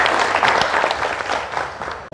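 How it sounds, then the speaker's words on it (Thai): An indoor audience at a Thai dharma talk claps for a lieutenant colonel speaker, a dense burst of applause that fades slightly before ending abruptly. "ขอให้พวกเราปรบมือให้ท่านสักนิดหนึ่งก่อนนะคะ"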